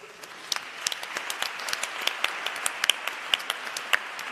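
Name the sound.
audience applause for panel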